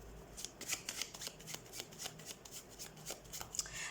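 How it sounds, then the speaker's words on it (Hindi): Tarot cards being shuffled by hand, a fast run of crisp riffling clicks and flutters in quick bursts, close and fairly soft, with no voice. "तो सबसे पहले हम कार्ड शफल कर लेते हैं"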